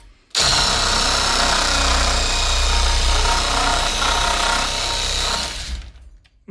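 An AL-KO cordless reciprocating saw runs in one loud, continuous burst of buzzing, rattling cutting for about five seconds, close up, then stops abruptly.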